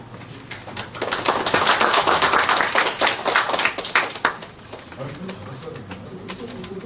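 An audience at a residents' meeting on redevelopment and reconstruction claps to welcome a company representative, the clapping strong in the middle and then fading, with birdlike coos and a voice toward the end.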